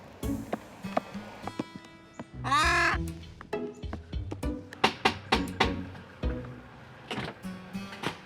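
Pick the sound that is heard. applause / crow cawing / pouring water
crow cawing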